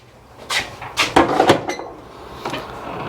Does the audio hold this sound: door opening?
yes